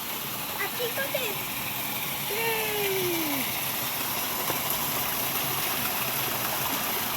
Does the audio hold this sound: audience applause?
no